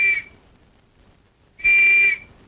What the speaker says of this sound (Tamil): அப்புறம் ஏன் விசில் ஊதுற?